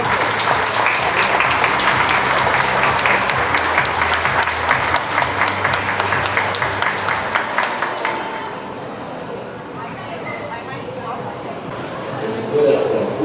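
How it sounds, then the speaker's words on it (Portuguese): An audience at a memorial tribute applauds loudly in a dense burst of clapping that fades after about eight seconds, leaving quieter room noise with some voices. "Uma salva de palmas para esse amigo nosso."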